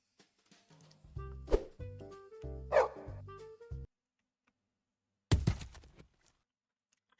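Video game dog barking: two loud, close barks with yelping overtones in the first four seconds, a quiet pause, then another sharp burst near the end.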